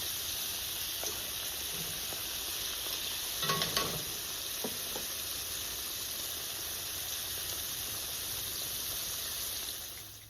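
Onion petals frying in hot oil give a steady, even hiss and sizzle at moderate level, with a short cluster of louder stirring clatter near the middle.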